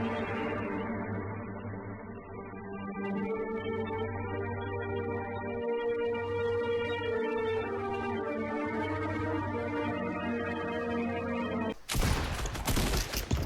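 Gunfire in the Fortnite video game breaks out as a loud, rapid burst near the end, following a long stretch of steady tonal game sounds.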